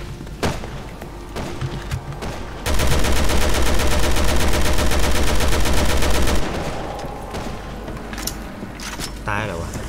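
Rapid automatic gunfire in Resident Evil 6, a dense run of loud repeated shots lasting several seconds, with scattered single shots and game noise before and after, under a voice.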